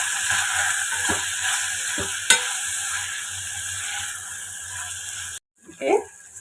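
Turmeric and chili powder are stirred into sizzling vegetables for semiya pulao, a steady close frying hiss with scraping stirs and one sharp clink, before a brief pause and a short burst of sound at the end.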